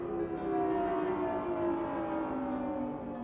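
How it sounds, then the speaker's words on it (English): An air raid siren warning of approaching airstrikes holds a steady, loud wailing tone that dips and swells slightly, sounding on its own without voices. "threatened by the deafening sound of sirens announcing"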